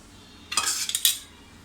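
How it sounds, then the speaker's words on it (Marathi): A spoon clinks and scrapes against a bowl in a short cluster of about five quick taps while spices are stirred into chana and moong dal fritter batter, close and clear in an otherwise quiet kitchen. "आता आपण याच्यामध्ये बाकीचे सगळे मसाले मिक्स करूया"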